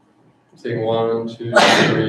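A single sharp sneeze bursts out in a meeting room, landing over a man who is counting aloud.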